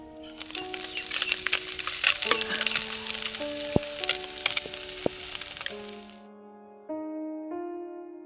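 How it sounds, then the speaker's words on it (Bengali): Small fish frying in a wok, giving a steady crackling sizzle with sharp spits and pops for about six seconds before the frying suddenly stops, leaving a faint background hum. "তাই ভাবছি এখন একটু মাছটা ভেজে রেখে দিই"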